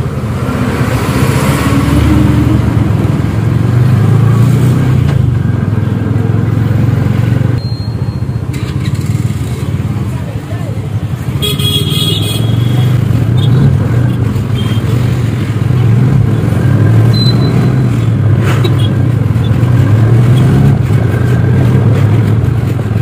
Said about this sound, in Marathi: इकडे पण ट्रॅफिक चाललेला होता.